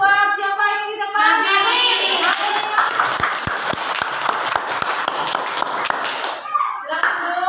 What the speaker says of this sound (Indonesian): Tepuk tangan buat siapa yang di depan?